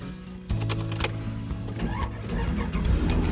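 A used car at an auto auction cranks and fires up, a short starter whir followed by the engine catching and settling into a steady idle close by.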